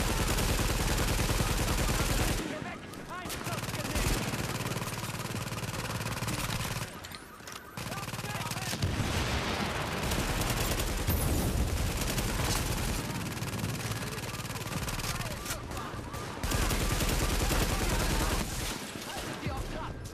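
Dense, loud gunfire in the video game The Division, with sustained automatic bursts and heavy rapid shots almost nonstop, a few brief lulls and players talking over the shooting.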